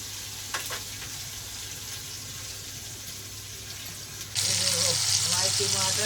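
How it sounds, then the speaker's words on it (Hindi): Tomatoes and red chillies frying in a pan give a steady broadband sizzle that swells louder and brighter partway through, with a voice talking quietly beneath it. "हमारे टमाटर भून रहे हैं अच्छी बढ़िया।"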